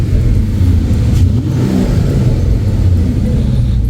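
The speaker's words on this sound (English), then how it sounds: "Over here, that's the active exhaust." Active exhaust with its valves open on a Mercedes-AMG CLE 53 4MATIC with a six-cylinder engine, revving close by: a loud, continuous low engine roar that holds steady for several seconds with no talking.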